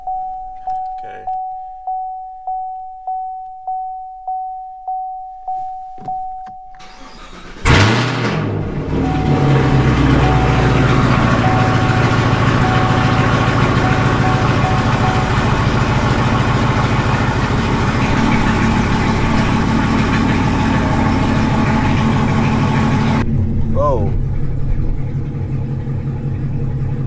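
A Chevrolet Camaro ZL1 with a service battery charging system warning beeps repeatedly, then its engine fires with a sharp loud start and settles into a steady, close, deep idle that runs for about fifteen seconds before cutting off.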